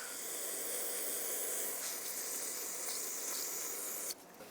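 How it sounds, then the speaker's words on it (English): Steady, close hiss of brake parts cleaner sprayed from an aerosol can onto threaded parts during a rear wheel bearing and hub job on a 2007-2010 Chrysler Sebring, running continuously for about four seconds before cutting off abruptly. "Use some brake parts cleaner to degrease the threads here."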